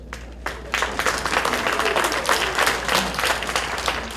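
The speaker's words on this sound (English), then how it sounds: "I ask that you hold your applause" A crowd at a city commission meeting claps and applauds steadily, dense and continuous, for several seconds.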